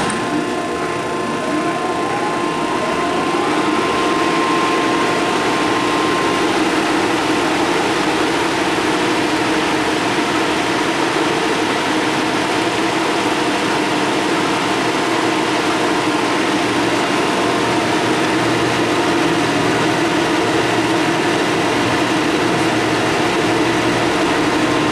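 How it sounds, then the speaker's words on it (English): A Cincinnati Milacron Cinco 15 centerless grinding machine runs with its spindle, oscillation and grinding wheel on, a loud, steady, dense mechanical roar and hum with a faint whine, continuous throughout. "start the grinding wheel, and that'll be everything."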